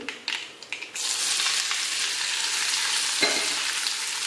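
Mustard seeds splutter in hot oil with a few sharp pops at first, then settle into a dense, crackling sizzle close by.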